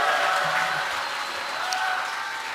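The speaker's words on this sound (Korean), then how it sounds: "박수 한번 치시죠" Crowd applause at an outdoor political rally in Korea, a steady wash of many hands clapping at a distance, continuous and even with no speech on top.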